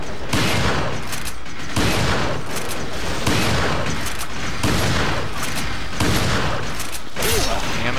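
Repeated heavy shotgun blasts in Resident Evil 4, loud bursts roughly every second with mechanical clatter between them and no talk over them.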